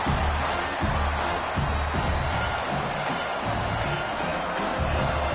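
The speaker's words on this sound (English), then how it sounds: "Here comes this home crowd as the defense tries to get off the field on third down." A home crowd roars steadily in a football stadium during a third-down defensive stand, a loud, dense wall of cheering and noise that holds without a break.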